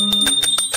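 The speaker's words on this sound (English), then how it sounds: "please ring the bell as you do so" A small ritual bell rings rapidly during a temple offering, five or six bright, quick metallic strikes with a sustained high ring, close and loud.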